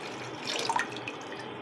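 Water is poured into a pot for cooking lentils, a soft faint trickle with a few brief splashy drips, heard alone in a quiet kitchen.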